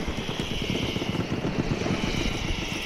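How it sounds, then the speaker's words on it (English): An aircraft in the video game Battlefield 1 drones steadily overhead, a continuous engine rumble with propeller-like throb, fairly loud and sustained throughout with no speech. "There's a plane."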